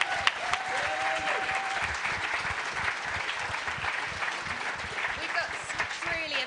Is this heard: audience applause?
yes